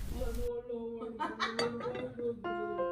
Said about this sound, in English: I put some dates into the bowl for iftar